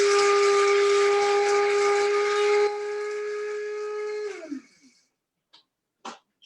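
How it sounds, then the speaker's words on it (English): A coffee grinder grinding flax seeds gives a loud, steady, high whine with airy hiss for about four seconds, then the motor winds down with a falling pitch, followed by a few faint clicks. "It's gonna get kind of loud for a second because I'm gonna grind it."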